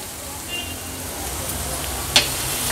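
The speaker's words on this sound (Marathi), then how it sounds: "तुम्ही बघू शकता वांगी छान ह्या मसाल्यामध्ये आपण परतून घेतली आहे." Brinjal pieces frying in a green masala paste on a high gas flame, a steady broadband sizzle with a brief sharp clink near the end.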